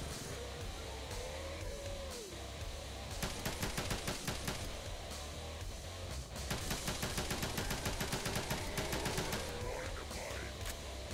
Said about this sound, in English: Stop shooting rockets at me!